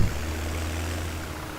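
A strong tractor engine in the Farming Simulator 2017 game runs as a steady, low, droning hum with a constant pitch and no talk over it.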